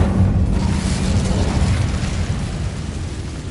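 Incendio fire spell cast in the video game Hogwarts Legacy, a loud roaring burst of flame that swells at once and then slowly fades in a broad rumbling whoosh.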